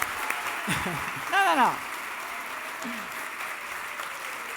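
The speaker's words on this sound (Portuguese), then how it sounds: "Primeiro aplausos, vai, que maravilhoso." Audience applause at a summit talk fills the room as a steady broadband wash, with a voice speaking over it.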